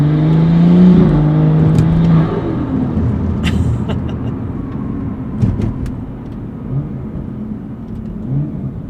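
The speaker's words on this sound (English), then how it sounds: "So we're gonna do some driving so you guys can hear the car." A BMW F30 turbo sedan fitted with Vorshlag camber plates drives along, its engine loud and up close with a rev that rises and then drops, followed by a quieter cruise with brief clicks and thumps.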